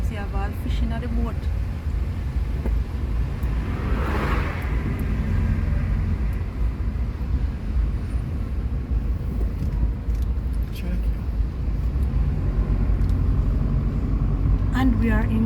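Heavy low road rumble from cars in Montego Bay, Jamaica, with a vehicle swelling past close by partway through and continuous engine and tyre noise underneath.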